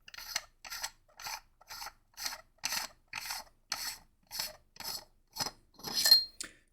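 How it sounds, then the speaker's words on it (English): Handle of a custom Neopixel lightsaber styled as a U.S. Navy flagship saber being unscrewed by hand, giving about a dozen evenly spaced short scraping, rasping turns of threaded metal, close and moderately quiet with no talking. "and then we just want to unscrew the handle again."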